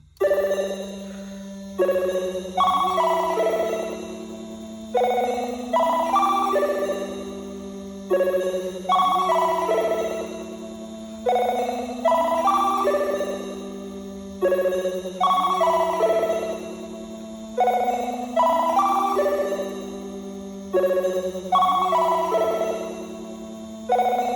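Simple looping synth melody from the Slate Machine Bit Flip plugin's Dreamy Triangles preset, bell-like tones repeating in a steady phrase over a sustained low note, with no talking.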